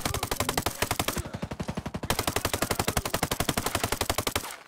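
Automatic gunfire in the video game Ghost Recon Breakpoint rattles off in long, loud, rapid-fire bursts with a brief pause between them, close and dominant.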